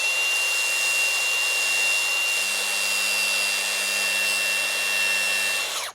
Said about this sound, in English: Now I use a flap disc because it's a little bit less aggressive than using a normal cutting disc.